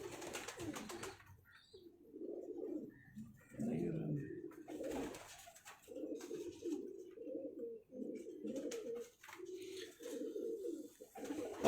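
Pigeons coo in repeated low, throaty phrases, close and clear, with a few faint chirps and a voice speaking softly in the background.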